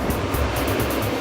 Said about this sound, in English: I hear all these toilets flushing.